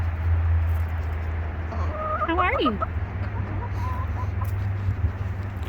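Chickens cluck close by, with a burst of rising and falling calls in the middle over a low steady hum, while a person briefly speaks.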